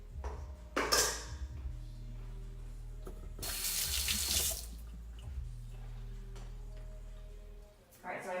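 Kitchen tap runs into a sink in two bursts while something is rinsed, a sharp rushing splash first and then a longer gush, with faint clinks and quiet stretches between.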